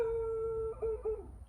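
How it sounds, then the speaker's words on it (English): A dog howls in a long, steady, fairly faint tone that wavers and breaks into a couple of shorter howls toward the end, with no talking. "The dog's trying to give me some knowledge too."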